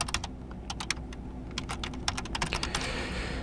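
Rapid typing on a computer keyboard, clusters of crisp close keystrokes with brief pauses between bursts, moderately quiet and with no speech.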